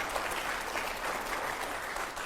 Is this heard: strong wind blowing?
no